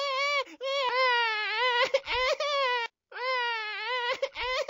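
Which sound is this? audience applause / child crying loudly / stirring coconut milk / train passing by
child crying loudly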